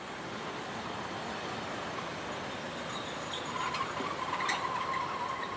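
A train rumbles steadily, with a faint metallic wheel squeal rising as it rolls slowly along the rails, entering Sembrancher station in Switzerland's Rhône valley.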